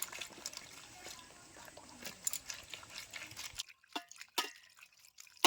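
Small puti fish are rubbed and washed by hand in water to loosen their scales, giving faint sloshing and splashing. The sound then thins to sparse drips and small splashes, all quiet and close.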